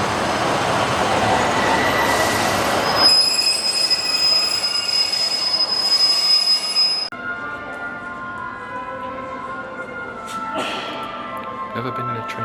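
A train rumbles through Beverley railway station in East Yorkshire with a sustained high metallic wheel squeal, then quieter station ambience with faint tones and distant activity.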